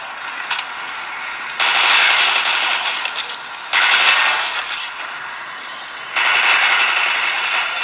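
Gunfire from the mobile game Dead Trigger 2 on a Black Shark 3 Pro gaming phone, three loud sustained bursts of rapid shots separated by quieter gaps.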